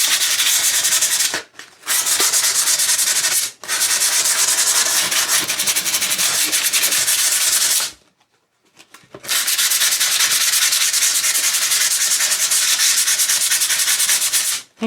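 Scrap wood with a painted surface being distressed by hand with 240-grit sandpaper: long, loud, steady scratchy rubbing strokes in several bursts, broken by short pauses.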